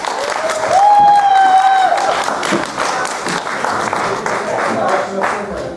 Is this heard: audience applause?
yes